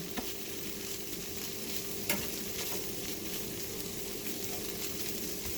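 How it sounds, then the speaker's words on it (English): Peppers and onions fry softly in a pan over heat just below medium, a steady close sizzle with a quiet crackle and one small knock against the pan, and no talk. "So let this fry up"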